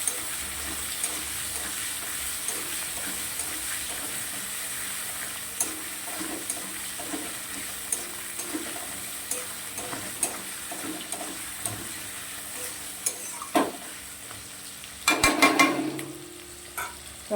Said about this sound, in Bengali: তো আগে এটা ভালো করে লাল লাল করে ভেজে নিই পেঁয়াজ আর টমেটোটা